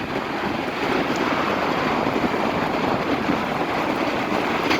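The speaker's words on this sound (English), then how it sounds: "Sorry, we got a train passing by here." A Hudson line train passes close by, giving a loud, steady rumbling roar with wind buffeting on the microphone and no voices.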